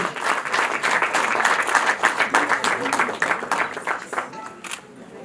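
A crowd applauds at a wedding ceremony with dense, sustained clapping close by that gradually thins toward the end, while a voice speaks over it.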